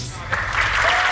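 A studio audience applauds the finalists of a televised competition show, a burst of clapping that swells after a brief quieter moment and continues full and steady.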